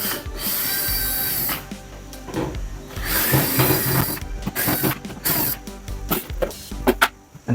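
Screws are being removed from a portable air conditioner, giving a series of close, irregular ratcheting clicks and metallic scrapes with short pauses between bursts.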